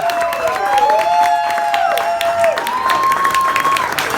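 Wedding guests applaud the maid of honor at a reception, a steady wash of clapping with crowd noise and bright sustained and gliding tones running over it throughout.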